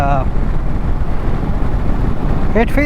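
Kawasaki Versys 650 motorcycle riding on the road, with a steady loud roar of engine and wind rush throughout and brief tonal engine notes near the start and end.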